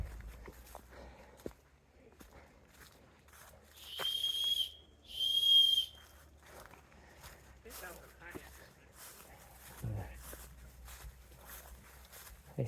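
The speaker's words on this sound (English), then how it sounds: "we decided to blow that whistle so they know we're coming" Two sharp, shrill whistle blasts ring out back to back, surrounded by quiet footsteps crunching along an outdoor forest trail in Cook Forest.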